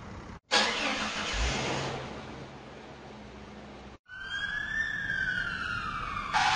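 Ambulance siren, loud and close, with a steady wailing tone over road and engine noise, broken by a short cut and then a rising and falling tone.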